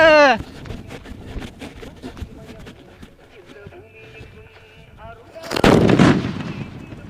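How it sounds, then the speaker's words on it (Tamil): After several seconds of quiet outdoor village background with faint birds, a single heavy one-kilo firecracker blast booms loudly, followed by a rumbling decay. "அடுத்த ஸ்டேஜாக ஒரு கிலோ மாப்பிள்ளை வெடிங்க எப்படி இருக்கு பார்த்துருவோமா"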